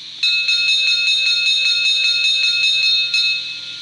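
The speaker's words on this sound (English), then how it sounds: "Here comes the bell." The bell of a Märklin BR tank engine model train, 39648, rings brightly and mechanically, rapidly and repeatedly for about three seconds, clear and close, then stops.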